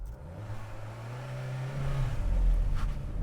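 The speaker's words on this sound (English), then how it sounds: "I'm going to time it from 0 to 60 miles an hour" A 2020 Volkswagen Golf Mk8 hot hatch accelerates hard from a standstill toward 60 mph, its engine droning steadily and rising in pitch as the car pulls, heard from inside the cabin at moderate volume.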